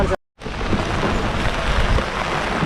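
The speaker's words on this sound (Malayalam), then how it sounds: "ഭയങ്കര മഴ" Dense, steady rush of heavy rain filling the whole clip, broken by a brief silent gap near the start, with no voices.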